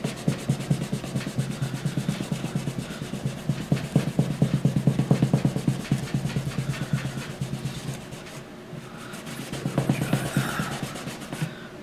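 A compound-loaded rag rubs rapidly back and forth over a Martin guitar's long saddle, producing a steady, close scrubbing rhythm that continues for several seconds with a brief pause near the end.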